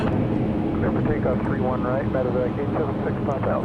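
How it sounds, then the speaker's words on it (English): An Embraer Phenom 300 business jet at Dallas Love Field gives a steady, continuous roar at an airport, with a person talking throughout over the engine noise. "that was an Embraer Phenom 300"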